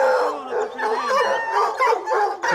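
Several dogs bark and yelp in a continuous, overlapping chorus, fairly close and loud, with some howling tones mixed in.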